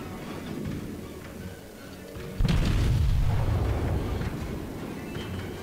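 The Japanese cruiser Kitakami fires its two guns in World of Warships, giving a sudden deep booming blast that rolls on and slowly fades, heard over quieter ambient rumble.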